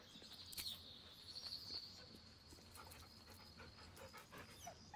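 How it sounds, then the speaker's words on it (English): In the Baldur's Gate 3 video game, a dog pants softly at a camp, with faint whimpers over a quiet ambient bed of crickets and birds. "You're a very good doggo."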